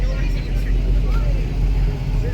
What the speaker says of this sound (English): There goes that red truck.